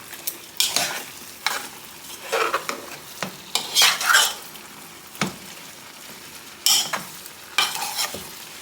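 Lamb cooking in its own juices in a pot is stirred in repeated scraping bursts, each stroke close and clear over a low, steady sizzle, with no talking.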